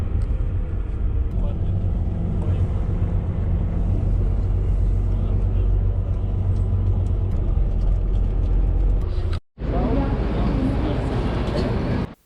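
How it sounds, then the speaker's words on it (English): Heavy bus engines rumble and idle at the Praha Florenc city bus terminal in Prague at night, a steady, loud low drone that cuts out briefly near the end before resuming. "This is the Prague City bus terminal, which is called Praha Florence."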